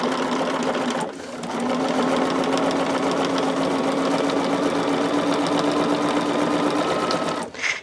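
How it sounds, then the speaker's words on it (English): A sewing machine stitches a fabric pouch in a fast, steady mechanical whir. The run pauses briefly near the start and stops at the end, close and loud, with no talk over it. "The rest of it is all going to be just sewing and pressing, sewing and pressing."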